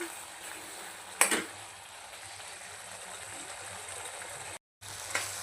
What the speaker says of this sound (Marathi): हाय फ्लेमवर मी थोड्या वेळेला ठेवणार आहे म्हणजे यातलं पाणी थोडंसं आटेल